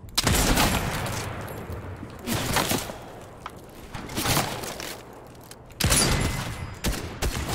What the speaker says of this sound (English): Oh, it's a slow fire rate too.